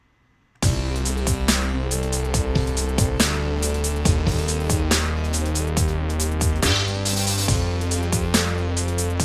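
A deep analog synth bass in Ableton Live plays a sustained, melodic string-part phrase, loud and steady from the start, with sharp transient hits punctuating the groove.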